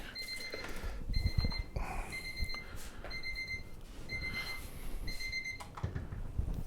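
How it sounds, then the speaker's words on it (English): A kitchen timer alarm rings in repeated bursts of bright electronic beeping, about five or six short pulses with brief gaps, over a cluttered background of handling and rustling noise in a home cooking setting. "There's the timer."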